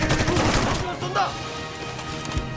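Gunfire from a war film about North Korea's Unit 124 being discovered by South Korean troops, a dense burst of shots mixed with music and effects, loud throughout with a brief flare near the middle.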